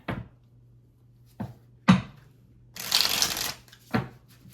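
Cards are shuffled in several quick riffles, each a crisp flutter, with a longer riffle near the end and quiet gaps between.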